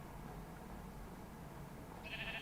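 A sheep bleats faintly in the GregTech New Horizons Minecraft modpack, one short, quiet bleat near the end over a low background murmur.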